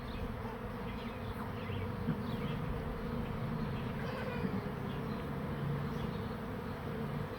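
Honeybee swarm buzzing steadily around a backyard swarm trap, a dense continuous drone of many bees close by, unbroken and even in loudness throughout.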